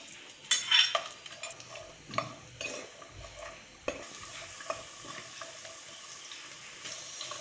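Cashew nuts frying in ghee in a pan on the stove, with soft bubbling and intermittent scraping and stirring clatter, a few louder knocks early on, no talking.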